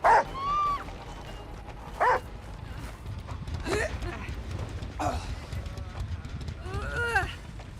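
A hound in the Dead by Daylight video game gives five or six sharp barks and yelps spaced a second or two apart, over a murmur of game sounds and voices.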